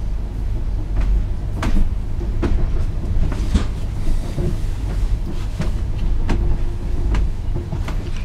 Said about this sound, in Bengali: ট্রেনটা শেষ হচ্ছে না কেন